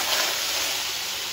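Chicken hitting hot oil in a home kitchen pan gives off a steady, bright sizzling hiss, close and even for a brief moment.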